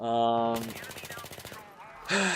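FAMAS rifle in Battlefield 3 fires a rapid, evenly spaced automatic burst of about a second, loud and close, framed by game noise before and after.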